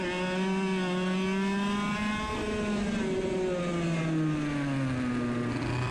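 Go-kart engine droning steadily near the microphone as the kart slows into a corner on a dry track, its pitch gradually falling with a buzzy, harmonic-rich tone throughout.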